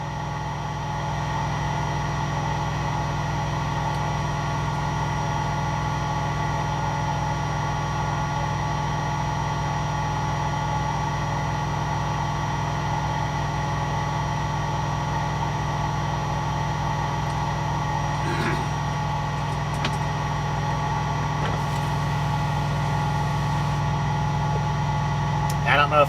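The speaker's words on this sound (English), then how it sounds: "I believe it's just the engines again." Union Pacific locomotive engines idle in Cheyenne, Wyoming, giving a low, constant drone that stays even for almost half a minute, with a few faint clicks near the end.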